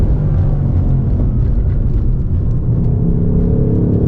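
A 2024 Ford Mustang Dark Horse with a Tremec manual gearbox accelerates hard on a race track, its engine a loud, constant low rumble and roar that builds steadily throughout, heard from inside the car.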